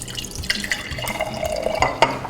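White wine vinegar being poured into a mason jar, a close trickling and splashing of liquid against glass with small drips and a brief rising fill tone, no talking.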